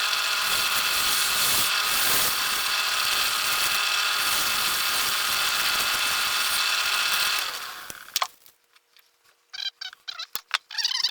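A wood lathe spins a bowl blank while a scraper rounds over its edge, giving a steady, loud whirring grind for about eight seconds before it cuts off into quieter scattered scraping noises.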